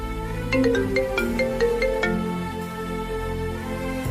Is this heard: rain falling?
no